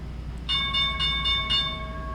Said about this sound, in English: that's the market bell.